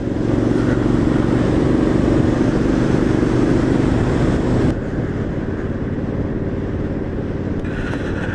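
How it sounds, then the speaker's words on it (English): A 2017 Triumph Street Scrambler motorcycle on a ride gives a loud, continuous engine roar with rushing wind, easing to a slightly lower, steadier drone partway through. "What a motorcycle!"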